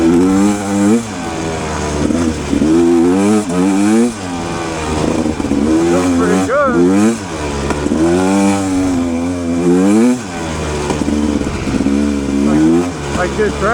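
A Rieju Ranger motorcycle engine revs hard while riding, its pitch climbing and dropping through repeated throttle bursts and gear changes, loud and close throughout.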